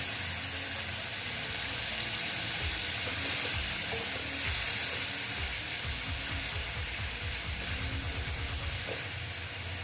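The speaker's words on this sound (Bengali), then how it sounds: "তারপর আমি একটু হিসাব করেই একদম জল দিয়ে দিলাম" Water poured into a hot pan of koi fish curry with mustard and poppy-seed paste, a loud broad hiss and bubbling rush that holds steady throughout, with rapid churning bubbles underneath.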